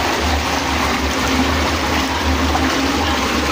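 Strong water rushes continuously in a loud, dense, steady roar with no pauses and no voices.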